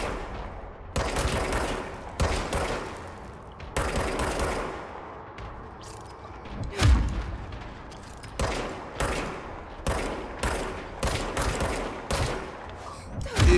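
Gunshots ring out in the video game Control, coming in loud, irregular bursts and single cracks over a steady game backdrop, with a few faint voices underneath.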